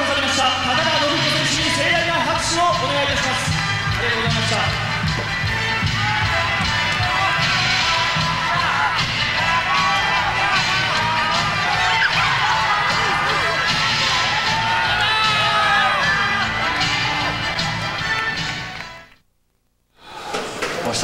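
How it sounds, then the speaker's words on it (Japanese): Wrestling arena crowd at a UWF International event applauding and cheering loudly and steadily for nearly twenty seconds, dense and continuous, cutting out briefly near the end before resuming. "盛大な拍手をお願いいたします"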